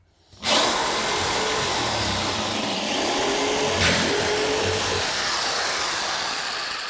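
Cheap corded Black & Decker jigsaw cutting through a shower base, starting abruptly and then running as a loud, continuous buzzing saw close by for several seconds.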